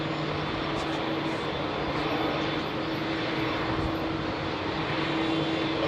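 An Air Canada airliner in new livery is on runway 27R at London Heathrow. Its engines make a continuous broad roar that stays even and moderately loud for the whole stretch.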